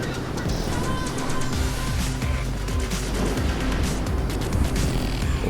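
Engine of a car accelerating during a GTA Cunning Stunts race, a loud continuous revving drone with rising and shifting pitch and occasional knocks, steady throughout with no speech over it.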